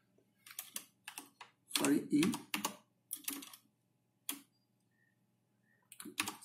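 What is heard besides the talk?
typing a command on a computer keyboard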